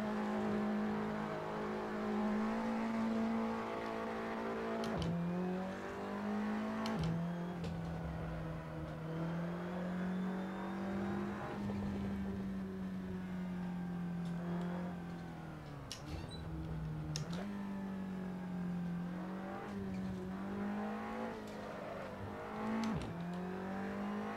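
An Audi TT Cup race car in Assetto Corsa at Brands Hatch: a steady, droning engine note that holds pitch, dips briefly during gear changes and swells back, heard continuously from inside the car.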